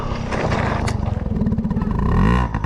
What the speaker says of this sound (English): I'm on a dirt bike, I'm chilling.